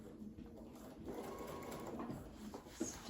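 A sewing machine runs a twin-needle seam at a stitch length of 3, a steady close mechanical whir and rapid needle patter that picks up and holds, with no talking.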